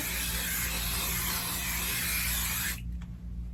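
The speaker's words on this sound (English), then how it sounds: "take my basting spray and do the same thing" Basting spray hisses steadily from a can onto a quilt for nearly three seconds, loud and close, then cuts off abruptly, leaving faint room sound.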